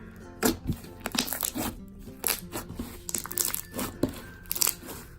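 Close, crisp crunching and crackling bursts of light purple slime come in quick irregular pops and squishes, like beads being squeezed in a soft material, with no talking.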